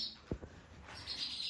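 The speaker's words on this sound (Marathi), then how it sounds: "यायच्या आधी चिमण्या राहिला आलेत" Sparrows chirping faintly near a home's windows, a few brief thin calls over quiet room tone.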